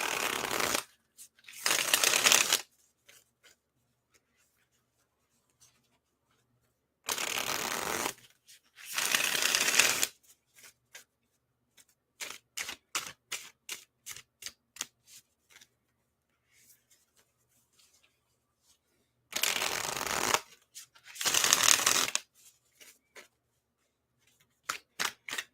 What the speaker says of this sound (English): let's shuffle because we don't want this to be too long